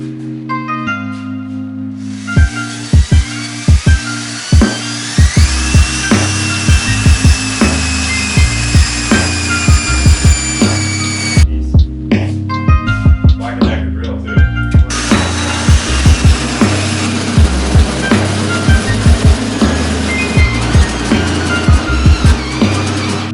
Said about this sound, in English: I have drilled a 1 3/4 inch hole